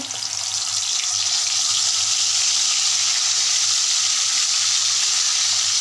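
Onion paste goes into a pan of sizzling dried hilsa shutki with vegetable stalks, potato and eggplant. A loud, steady hiss of frying continues unbroken, with no talking.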